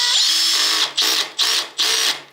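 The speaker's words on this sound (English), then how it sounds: "Now let's use our drill." A cordless electric drill drives a nut on a Suzuki DR650 motorcycle during a battery change, with a steady whine and then three short bursts in a row, loud and close.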